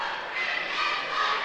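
Packed crowd at a Kearsarge vs Lebanon high school boys' basketball game in a gym, a steady broad murmur of many voices with faint shouts rising now and then throughout.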